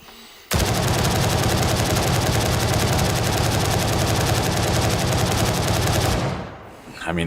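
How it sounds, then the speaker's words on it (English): Sustained automatic gunfire aimed at a tree in the shooter game Gray Zone Warfare, a loud, dense stream of rapid shots running unbroken for about six seconds before cutting off abruptly. "Alright, let's shoot at this tree."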